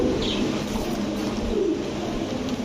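Red checker pigeons cooing softly, low murmuring coos set against a steady background hiss, fairly close but faint.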